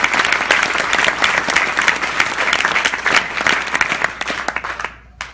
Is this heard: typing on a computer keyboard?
no